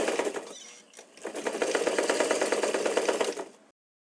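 A sewing machine runs around the edge of a fabric pot holder made from scraps, giving a brief start, a short pause, then a steady rapid stitching whir for a couple of seconds before stopping abruptly.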